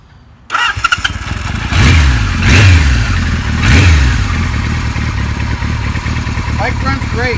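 A 1976 Kawasaki KZ900 motorcycle, in neutral, fires up loud and close, then takes three sharp throttle blips that rise and fall before it settles into a steady, rumbling idle.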